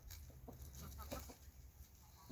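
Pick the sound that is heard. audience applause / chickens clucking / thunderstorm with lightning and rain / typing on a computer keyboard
chickens clucking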